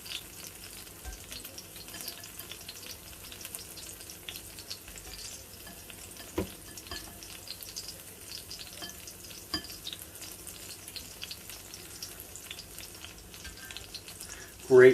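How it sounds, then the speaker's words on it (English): Cucumber fritters fry in a hot cast iron pan, giving a steady soft sizzle that runs throughout, with occasional scrapes and clicks of stirring and a louder clatter at the very end. "And I'm also making cucumber fritters here as well."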